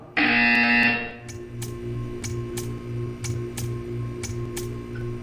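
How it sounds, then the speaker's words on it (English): A loud electronic buzzer from the video game Portal 2 blares for about a second, then a steady run of sharp ticks follows at an even pace over a low hum. "When you hear the buzzer, stare at the art."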